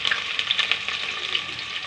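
Onions hitting hot oil in a pan for khichuri, a close, continuous sizzle with crackling spits and small pops, steady and alone without talk.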